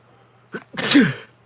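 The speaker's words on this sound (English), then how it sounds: "I gotta sneeze." A single sneeze close to the microphone: a short sharp intake, then a loud burst lasting about half a second, in an otherwise quiet room.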